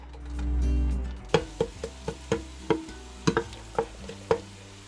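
Garlic being sautéed in a small amount of cooking oil, marked by a string of sharp scraping and tapping strokes of a utensil against the pan over a faint sizzle, close up and with no talk.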